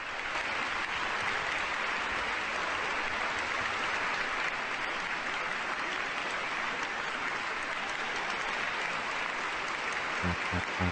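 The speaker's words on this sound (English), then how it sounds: "Still clapping." Sustained applause and clapping from a crowd in the finale of the video game Chaos;Child, a dense, steady wash of claps filling the whole stretch at constant loudness with no pauses.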